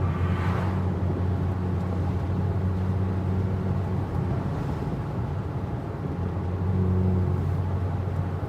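A Porsche RS60 Spyder engine hums at a steady, fairly constant pitch while driving, with a low rumble and faint wind noise, and no clear surge in revs.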